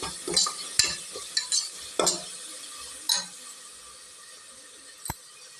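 A single large tomato sautés in a pan for vegetable biryani, with a soft sizzle under a series of sharp spoon scrapes and clinks from stirring, fading to a quiet hiss with one last tap.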